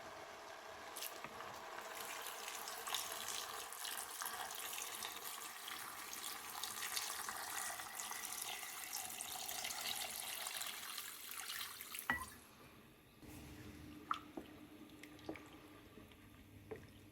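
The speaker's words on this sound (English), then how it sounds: "Then pour in 250 grams of coconut cream and 5 cups of water." Coconut cream and water pour steadily into a cooking pot for a chicken satay curry, a soft continuous splashing stream that stops abruptly, followed by a few faint clinks and drips.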